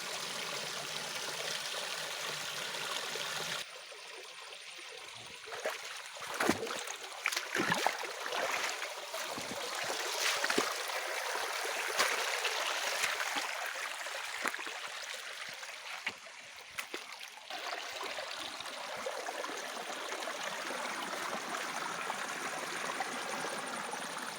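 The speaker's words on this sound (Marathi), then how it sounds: "हे बघा किती छान पाणी पडालं" Steady broadband rush of water flowing and falling from a natural spring stream, continuous and fairly close, with scattered clattering splashes early on.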